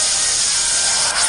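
The Fusion Bolt move in a Pokémon video game, a loud, bright, continuous crackling electric hiss that holds steady for about a second, with no talking.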